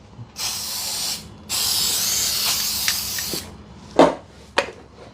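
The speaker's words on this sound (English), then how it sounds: "I'm going to just put a little spray on it." Two bursts of cooking spray hissing from an aerosol can onto a cobbler pan, a short spritz then a longer steady spray, followed by a couple of sharp clicks and knocks as the can is handled.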